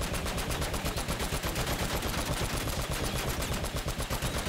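Rapid, continuous automatic gunfire from a mounted gun in Uncharted: Drake's Fortune, loud and steady with evenly spaced shots rattling throughout, no talking over it.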